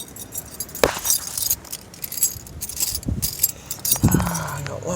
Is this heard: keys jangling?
yes